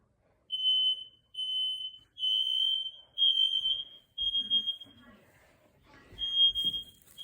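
A smoke alarm under test sounds repeated loud, piercing high beeping bursts of about a second each, and brief voices murmur between the later bursts.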